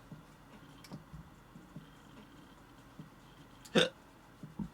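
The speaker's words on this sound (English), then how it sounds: "It's just a solitary backwards burp kind of hiccup." A person at a desk during a speedcubing session lets out one short, abrupt throat sound like a reversed burp or hiccup, close and fairly loud over a quiet room with faint ticks and clicks.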